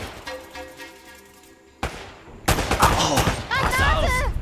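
Gunfire in the video game Uncharted: Drake's Fortune, a loud burst of rapid shots and impacts with game music and effects, a voice calling out during the firefight.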